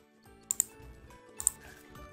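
Someone types on a computer keyboard while working in Microsoft Word. A few sparse, quiet key clicks come in two small pairs over a soft background hum.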